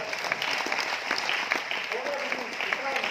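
Steady applause from a crowd at a speech event in Aurangabad, Maharashtra, fills the whole stretch, dense and even, with faint voices underneath.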